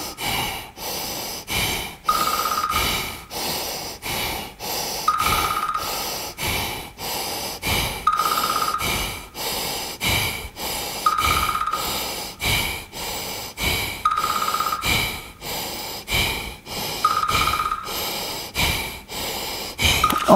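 Deep, slow breathing during a concentration exercise, a steady run of loud inhales and exhales repeating every few seconds for about twenty seconds, close and with no talking.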